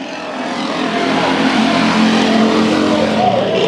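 A field of race cars roars away at the green-flag start at Bakersfield Speedway, a loud, dense engine drone that swells and holds steady.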